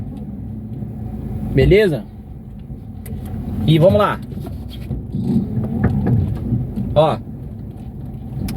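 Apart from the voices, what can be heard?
car with worn CV joint and wheel bearing rumbling while driving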